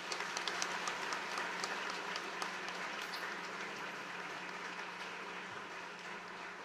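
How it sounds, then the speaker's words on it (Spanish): Congregation applauding for the priests at a Catholic installation ceremony of a parish priest, a dense steady wash of many hands clapping in a large reverberant space, sustained throughout without talk. "Vamos a darle un aplauso."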